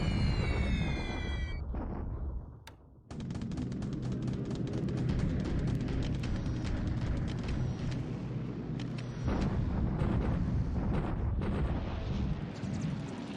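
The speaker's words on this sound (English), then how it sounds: "All right, the usual air bombardment here." Air bombardment explosions in the War in the Pacific strategy game, a loud, dense rolling roar of blasts that runs nearly unbroken, dips briefly after two seconds, then surges back and carries on.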